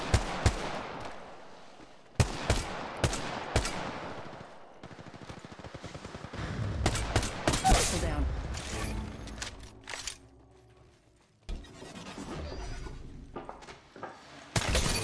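Gunfire in the mobile battle royale Apex Legends Mobile, with sharp cracks and rapid bursts going off repeatedly at close range, some long rattling volleys, and loud impacts spread across the whole stretch.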